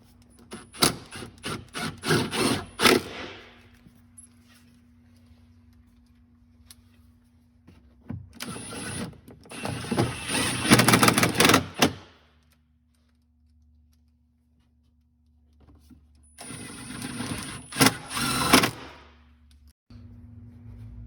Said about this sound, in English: The next step is to bolt the body back into place using the stock screws, 4 of them, and the T30